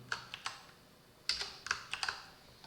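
Keystrokes on a computer keyboard while coding PHP: a few scattered clicks, then a quicker burst of several taps, close and fairly quiet, with no talking.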